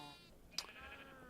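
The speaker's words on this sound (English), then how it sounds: "So we actually have a light gray sheep now." A light gray sheep in Minecraft gives one short, faint bleat over a soft background of sustained game tones, with no talking.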